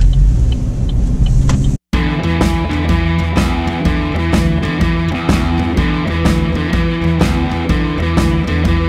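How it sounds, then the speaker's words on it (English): A maple sap truck pulls in and drives along, its engine giving a steady loud rumble with harmonic drone close by, after a brief silent break near the start; no talking. "just pulled in front of us with the sap truck"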